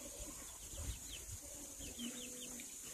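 Three wild roosters cluck faintly at a distance, with a few chirping birds and soft rustling in a quiet outdoor setting.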